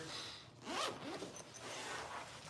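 A zipper slides open on the outer pocket of a padded flute case cover, a close, quiet rasping pull with a brief scratchy burst in the middle.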